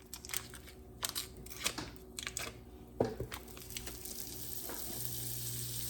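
Two tablespoons of butter melt in a hot frying pan after venison patties, with clinks and taps of a utensil before a steady, soft sizzle builds and holds near the end.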